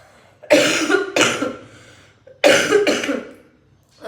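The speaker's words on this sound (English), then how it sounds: "I'm having a cough, a deep cough" Deep, heavy coughing from someone with a bad cold: two separate bursts, each a pair of harsh, chesty coughs, close and loud, with a short quiet gap between them and another breath or cough starting at the end.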